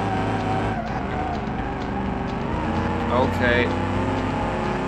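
A race car with nearly 400 horsepower drives around a track in a car-building video game, its engine droning and shifting pitch with tyre squeals, while someone talks briefly over it.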